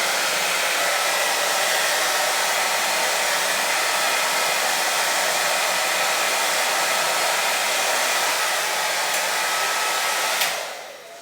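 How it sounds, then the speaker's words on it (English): A hair dryer on its cool shot setting blows in a loud, steady whoosh for about ten seconds, then switches off abruptly. "my hairdryer has a cool shot, so I can use that afterward to help it cool off"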